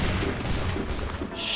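A musket volley in the video game Assassin's Creed III Remastered: a dense, loud burst of overlapping gunfire that fills the whole short moment, with no clear speech.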